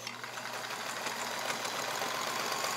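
A Kenmore model 1430 all-metal home sewing machine, made in Japan, runs steadily on straight stitch, giving a continuous close mechanical whir with no speech over it.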